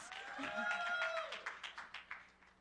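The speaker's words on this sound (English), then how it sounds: "Please give them a huge round of applause." Audience applause in the SDG Action Zone at a youth event: a voice speaks first, then a short string of distinct, rhythmic claps follows and fades out.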